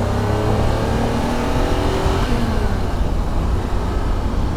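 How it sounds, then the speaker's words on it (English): A well-sorted Jaguar E-Type V12 engine revs hard, giving a loud, steady, close-up engine roar with rising and falling revs throughout and no talking. "And there it is, the magic of a well-sorted Jaguar V12."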